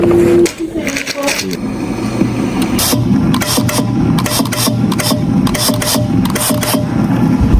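At a sewing club, a sewing machine runs in loud, fast mechanical bursts with ratcheting stitch rhythms and short pauses, close by, with people talking nearby.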